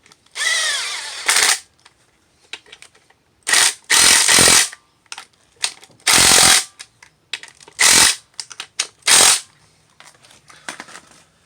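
A ratchet bolts down the clutch on a 2012 Nissan Sentra in loud, close bursts of rapid clicking, about eight separate runs with short pauses between them.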